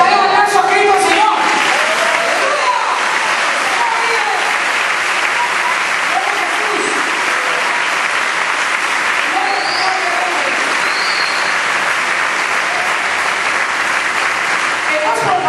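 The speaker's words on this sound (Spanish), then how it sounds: "Dale un aplauso a Cristo, Señor." Dense, steady applause from a church congregation filling the room for about fifteen seconds, loud and sustained with crowd voices mixed into the clapping.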